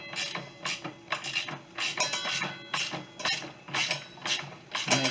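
Rapid, rhythmic ratcheting clicks from a wrench tightening the blade bolt on a Ryobi miter saw, bursts of metallic pawl clatter repeating steadily at close range.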